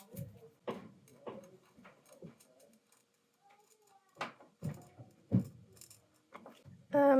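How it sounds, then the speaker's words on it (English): Children running and jumping upstairs in a house, heard as scattered faint, muffled thuds from overhead, irregular and distant, with a few small clicks between them in an otherwise quiet room. "You can probably hear that pounding upstairs."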